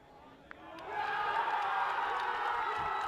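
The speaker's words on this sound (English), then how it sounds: "And you can hear the cheer" A crowd cheers and shouts as a Formula SAE race car finishes at the 2023 Australasia competition, the roar swelling up after a quiet moment and holding loud and steady.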